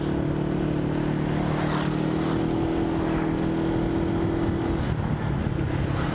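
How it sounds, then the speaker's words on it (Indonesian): Motorcycle fitted with a quiet aftermarket racing exhaust, revving in a steady, close drone that holds for about five seconds before easing off, with a low rumble throughout and no talk. "Gue lagi mau sosialisasi knalpot adem. Racing tapi adem."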